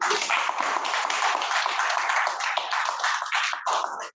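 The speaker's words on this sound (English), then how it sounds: "A round of applause for him." A Toastmasters meeting audience claps for an area director, a dense, continuous patter of hands held fairly close that stops abruptly.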